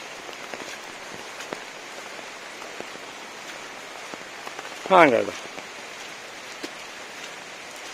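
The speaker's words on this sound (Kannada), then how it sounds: "ಈಗ ರಜ್ಜ ಮಳೆ ಕಡಿಮೆ ಆತು." Monsoon rain falls on a coastal Karnataka coconut plantation as a steady, soft hiss of drops throughout. A brief voice speaks midway through.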